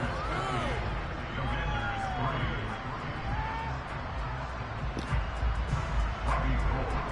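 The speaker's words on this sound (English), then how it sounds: "Damn dog is barking" Dog barking and yipping in a home during a televised football game, several short barks and whimpers close by, mixed with crowd noise from the broadcast and someone talking.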